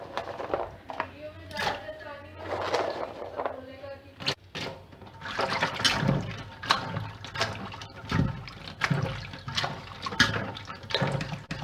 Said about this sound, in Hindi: देखिए इसमें जो ऊपर पानी है उसे हम इस तरह से निकाल देते हैं।